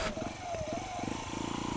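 Sinnis Apache 125 motorcycle being ridden, its single-cylinder engine putting out a fast pulsing thrum under wind and road noise, fairly faint, with a short rising whine partway through.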